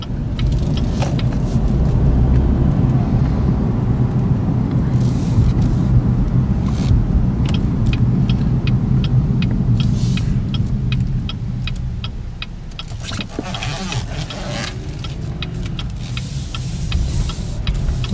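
Inside a salvage-repairable 2014 Cadillac CTS 2.0 Turbo AWD on a test drive, a steady loud road and engine hum fills the cabin, easing slightly near the end, with scattered light clicks and no talking.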